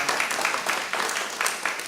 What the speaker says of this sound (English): So why don't you give yourselves a round of applause?